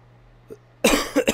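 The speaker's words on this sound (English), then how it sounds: "I'm sorry, I'm coughing." A person coughs, a faint throat sound followed by a burst of three loud, close, harsh coughs in quick succession.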